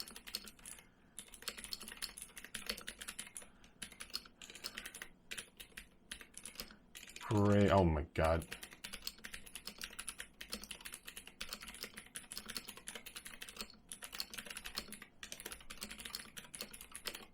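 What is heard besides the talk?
typing on GamaKay Womier K87 mechanical keyboard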